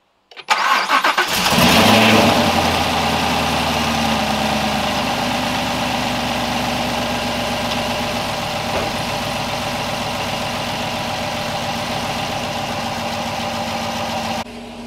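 A 2020 Chevrolet Camaro SS with its LT2 V8 and a newly installed modified intake cranks and fires up loudly, then settles into a steady, rumbling idle that continues close by with no talking.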